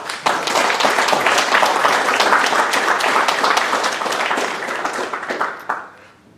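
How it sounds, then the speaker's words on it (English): An audience at a technology user group meetup applauds a speaker after a talk, with sustained crisp clapping from a roomful of people that holds steady for about five seconds and then tapers off. "please join me, round of applause for Rik."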